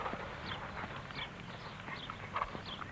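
A young horse in training moves at an extended trot, its hooves making faint, regular beats heard at a distance over steady background noise, with no voices.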